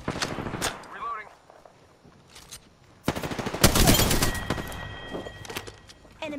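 Video game gunfire in bursts: a few sharp shots early, then a loud sustained automatic volley with rapid cracks, close and punchy, with a voice talking through parts of it.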